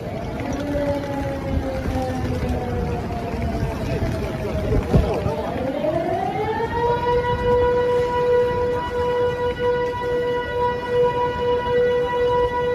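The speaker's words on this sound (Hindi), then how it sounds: "सुनिए इस सायरन की आवाज।" A loud wailing air raid civil defense siren in Ukraine rises and holds a steady, sustained tone, sounding continuously across the clip with a slight pitch sweep near the middle.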